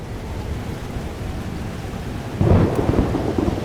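A thunderstorm in the video game Life is Strange: Double Exposure: steady rain hisses for a few seconds, then a loud thunderclap breaks in and rolls on as a rumbling crash over the rain.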